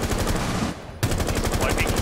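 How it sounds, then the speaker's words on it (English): Rapid bursts of automatic gunfire from a first-person shooter game, loud and close, firing in quick repeated volleys with a brief pause in the middle. "Yeah, I just shot this guy in the face."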